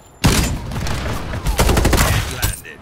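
Rapid automatic gunfire from the PC shooter game Farlight 84, loud and dense bursts of shots layered over game effects for almost the whole stretch, with brief dips between volleys.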